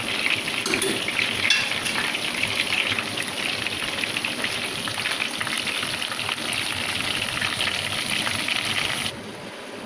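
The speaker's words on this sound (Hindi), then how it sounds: "हमारा चिकन जो है ना वो फ्राई हो चुका है" Chicken fries in mustard oil for a biryani with a loud, dense, continuous sizzle that holds steady throughout and dips slightly right at the end.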